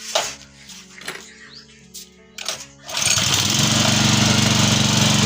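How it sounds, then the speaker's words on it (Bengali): A Chinese petrol water pump engine with a past starting problem takes a few rasping pull-cord tugs, then catches and settles into a loud, steady, buzzing idle close by. "এবার আমরা মেশিনটা স্টার্ট দেবো টানিয়ে"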